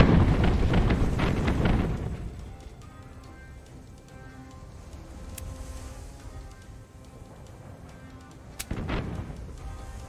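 Ship cannons open fire in the pirate strategy game Tortuga: A Pirate's Tale, a heavy rumbling barrage up front fading into ambient game sound, with one more sharp boom near the end.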